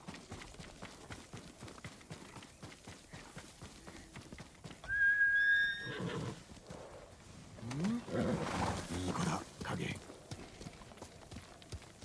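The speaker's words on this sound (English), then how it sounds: "When we got our new horse, this is our Kage resurrected" A horse neighs loudly in Ghost of Tsushima, a rising whinny midway followed by snorting and a second louder burst, over ongoing hoofbeats and game ambience, with a voice talking in places.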